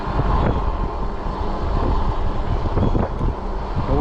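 Loud, steady wind rumble roars across a microphone on a moving Ecotric 20-inch folding fat-tire e-bike outdoors, a continuous buffeting noise with small gusty swells and no clear speech.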